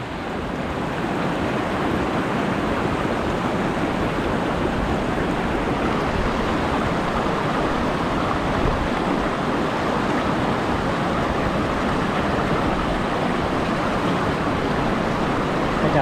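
Steady, dense rush of water flowing down a mountain stream along a Hmong roadside route toward Xaysomboun, constant and fairly close with no voices.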